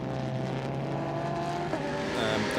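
A race car at the 24H Barcelona endurance race pulls out of the pits, its engine a steady droning whine that rises slightly toward the end, heard from nearby without talk.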